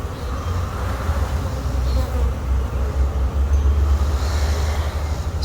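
Honey bees buzz steadily on a hive frame during a hive inspection, a dense, continuous close-up drone that holds level throughout with no talk over it.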